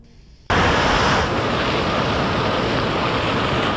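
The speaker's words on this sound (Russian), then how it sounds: "вы увидите, какой океан может быть в штормовую погоду" Stormy ocean surf pounds a seaside embankment in Lynn, USA, as a sudden, dense roar that sets in and stays loud and continuous, with strong wind buffeting the microphone.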